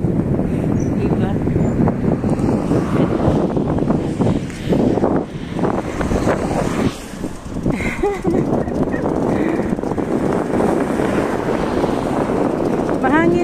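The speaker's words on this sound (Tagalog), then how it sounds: "Mahangin siya guys." Gusty wind buffets the microphone during an outdoor walk beside a stream in Kani, Gifu, Japan, a steady roaring rumble under occasional talk.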